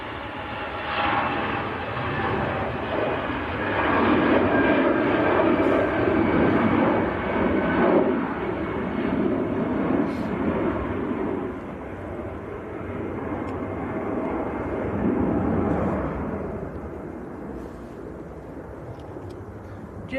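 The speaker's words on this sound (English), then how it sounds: "So this is EasyJet to Geneva." An easyJet jet airliner takes off from Manchester Airport bound for Geneva, its engines giving a loud, sustained roar that builds, holds, then slowly fades into the distance.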